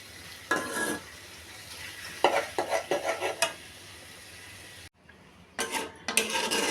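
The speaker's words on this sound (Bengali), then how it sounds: "এবার জল দিয়ে দিব।" Water goes into a hot pan of cucumber and shrimp curry, giving bursts of sizzling and stirring with a few clinks of a utensil against the pan and brief quiet between bursts.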